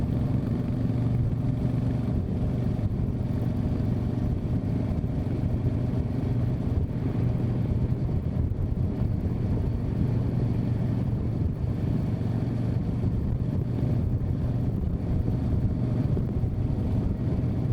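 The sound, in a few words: Super Meteor motorcycle engine while riding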